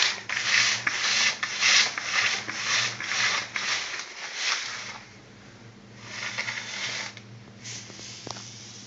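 Dry carp boilie base mix being stirred together in a bowl, giving a steady close scraping, rubbing rasp in repeated strokes that ease off briefly partway through before resuming.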